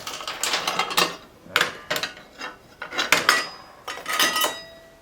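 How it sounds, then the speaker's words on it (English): Metal parts clink and rattle as the blade comes off an Evolution Rage 4 chop saw, with close clattering bursts and small ratchety clicks in quick succession. "Get this blade out, take a look at it."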